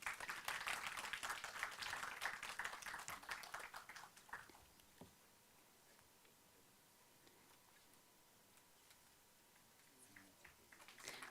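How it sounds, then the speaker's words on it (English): Attendees at an Islamic economics and finance conference give a round of applause, with brisk clapping that fades out after about four seconds, leaving quiet hall noise and a few scattered claps. "A round of applause, everyone."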